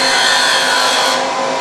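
A woodturning gouge cuts steadily into spinning wood on a lathe, a loud, continuous close-up shearing rush with no pauses, the pitch shifting slightly as the tool sweeps back and forth.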